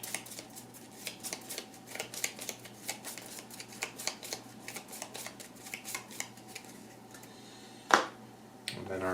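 Playing cards for a Marvel Champions card game are shuffled close up in a rapid run of crisp riffling clicks, ending in one sharper snap, with no talk.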